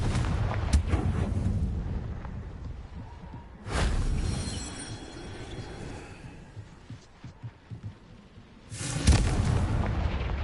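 A Confringo fire spell explodes in the Hogwarts Legacy game, giving a loud broadband burst at the start, another at about four seconds and a third near nine seconds, with rumbling debris between them.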